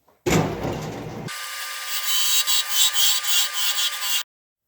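Wood turkey call body being cut on a lathe: a low rumble gives way to a close, harsh scraping hiss over a steady motor whine that swells and dips in waves, then stops abruptly.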